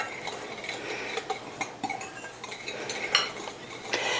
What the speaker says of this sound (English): I'm just going to take it and just stir this up a little bit with my baby whisk